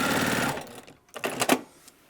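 A sewing machine runs a fast continuous stitching burr through fabric for about half a second while sewing an Outlander template, then stops. Short quieter mechanical bursts follow, close and clear.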